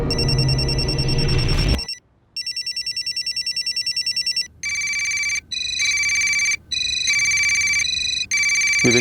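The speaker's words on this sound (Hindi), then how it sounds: "विवेक की माँ का फोन बज रहा है सर।" A brief burst of noise, then a mobile phone ringtone plays in repeated electronic bursts with short gaps, clear and close.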